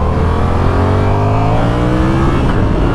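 A Yamaha R7 motorcycle engine revving hard on a dyno, its loud, close tone climbing steadily in pitch as the revs build over a few seconds, with no voices.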